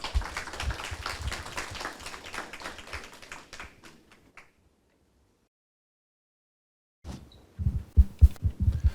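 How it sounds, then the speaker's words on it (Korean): An audience claps to welcome the dean at a university admissions information session: dense, steady crowd applause fades out after a few seconds into silence, then a few close thumps and handling noises follow. "모두 박수로 맞이해 주세요"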